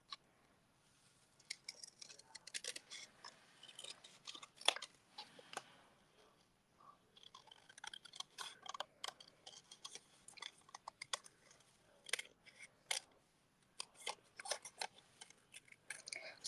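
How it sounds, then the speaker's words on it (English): Paper snips cut through decorative card stock in quick, crisp clusters of small snipping clicks, close and fairly quiet, pausing briefly between bursts of cuts. "if you want to cut these out, you'll have to grab your paper snips"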